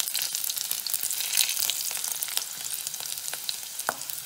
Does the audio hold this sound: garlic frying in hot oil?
yes